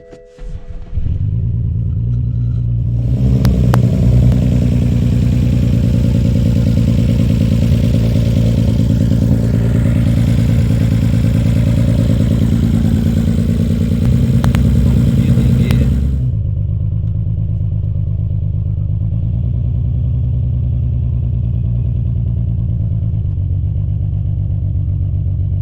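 BMW F21 converted from 114i to M135i xDrive: the engine cranks and fires, settling into a loud, steady rumbling run with a brief higher rev early on, then drops to a quieter, even idle.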